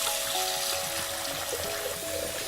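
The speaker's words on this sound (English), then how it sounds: "Now, place the meat in boiling water." Chashu pork sealed in a zip bag with marinade is lowered into a pot of water, giving soft splashing and trickling with gentle sloshing, close and moderately quiet.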